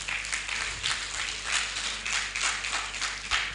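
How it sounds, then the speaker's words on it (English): Seminar audience applauding for themselves at a continuing professional education session, a steady wash of many hands clapping at moderate distance with no break, filling the room evenly. "let's clap hands for ourselves"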